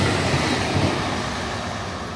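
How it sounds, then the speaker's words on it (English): A fast V/Line regional train rushes through a station without stopping, producing a loud, steady broadband roar that holds for the whole stretch and tapers only slightly toward the end, with no voices. "Oh, there's a fast train coming through actually."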